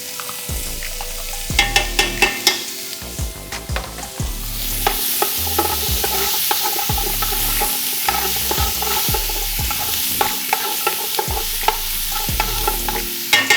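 Mirepoix sautés in hot butter and bacon fat, a bright continuous sizzle with rhythmic scraping strokes of a spoon stirring the vegetables around the pan.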